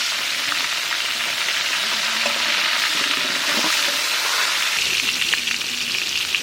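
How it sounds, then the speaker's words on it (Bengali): Eggplant frying in hot oil in a village kitchen, a steady broadband sizzle that holds loud and close throughout, with small pops and crackles rising through it. "বেগুন ভেজে নেব"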